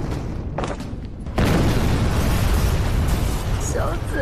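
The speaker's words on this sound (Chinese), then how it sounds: "是灵爆！" A spiritual energy explosion in an animated cultivation fantasy series, with a low rumble before a sudden loud blast at about 1.4 seconds that holds as a dense roaring wash to the end, with voices faintly in the mix.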